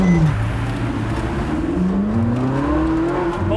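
A Ferrari engine revs loud and close, its pitch sweeping up repeatedly through the gears in smooth rising surges with a constant roar.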